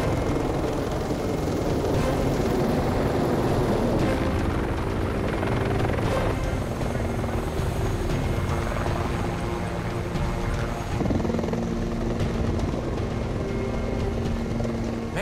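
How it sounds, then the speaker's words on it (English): Two helicopters landing on a highway in black ice conditions, rotors chopping loudly and continuously at close range, with the pitch shifting as they settle. "I've seen two helicopters land on the highway at once"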